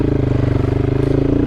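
A Motopro 300 motorcycle lugging uphill in first gear with no run-up, a steady low pulsing engine thrum, close and continuous.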